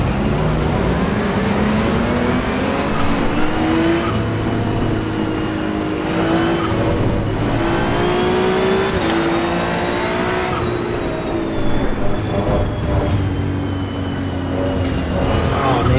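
A race car in the Assetto Corsa EVO video game roars loudly and steadily throughout, its engine pitch climbing and holding through gear changes with a dense, constant mechanical drone and no talking.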